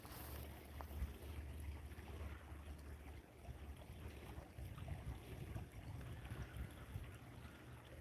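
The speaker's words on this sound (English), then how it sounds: "you hear that water? Some water that's not frozen." Unfrozen water runs beside a frozen stream outdoors in winter, a soft, continuous gurgling wash heard faintly under light wind rumble, with no talking.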